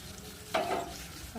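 Spice paste frying in oil as whisked yogurt with sugar goes in, one quick burst of sizzling and stirring against a faint background hiss.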